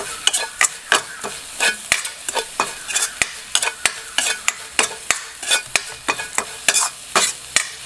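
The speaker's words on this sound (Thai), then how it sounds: "เครื่องแกงคั่วแค่พอหอมนะ" Curry paste for a Thai beef om curry is stir-fried in a pan: steady sizzling under a quick, irregular run of spatula scrapes and clacks, close and fairly loud with no talking.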